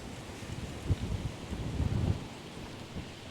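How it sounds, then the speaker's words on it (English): Wind gusting outdoors beside a river during a fishing outing, a soft broadband rush with low rumbling swells that rise and fall, moderately quiet with no speech. "Now the wind's blowing this way."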